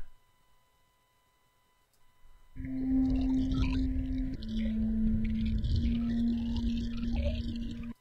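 After a near-silent start, a dense synthesized horror drone made in iZotope Iris swells in with sustained eerie tones and a low rumbling bed, holding steady and unsettling.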